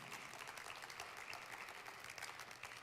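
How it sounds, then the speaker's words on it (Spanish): A church congregation applauds steadily during a sermon, a dense wash of clapping at moderate distance that continues without a break. "Dale un aplauso a mi Señor"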